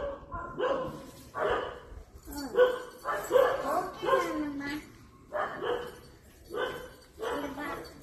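A dog barks at the gate of a house in a series of loud, close bursts with short gaps between them, and a voice can be heard among the barks.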